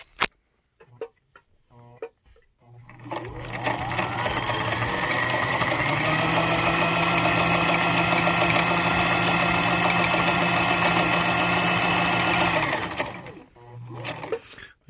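A restored Husqvarna Viking 6440 sewing machine stitches a cam pattern in slow reduction gear, a steady mechanical whir with a rapid ticking needle rhythm running about ten seconds, starting and stopping cleanly with brief clicks before and after.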